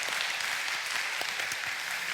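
A small church congregation at a Friday night prayer meeting claps together in encouragement, a steady soft patter of many hands at moderate distance, continuous and even throughout.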